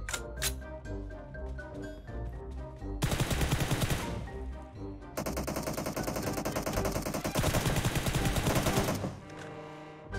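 Rapid automatic gunfire bursts in a shooting video game, loud repeated volleys separated by short gaps, with brief single shots at the start and game music-like tones between.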